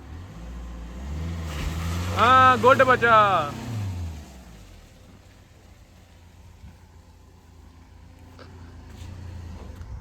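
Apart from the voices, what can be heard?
tractor engine revving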